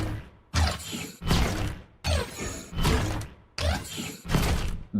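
Auto attacks from the Dark Star Orianna skin in League of Legends: a repeating series of about seven punchy, broadband whooshing hits with heavy low thump, each decaying before the next, loud and close.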